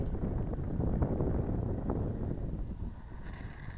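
Steady low wind rumble buffets the microphone at an open model airplane flying field, a continuous broadband roar with no clear talk.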